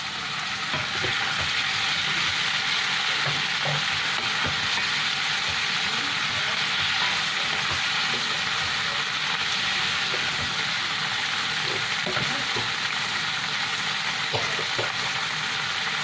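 Roughly chopped tomatoes and large peas sizzle in a hot pan for a restaurant-style malai kofta curry, a loud, steady hiss with faint scraping clicks running throughout and no voices.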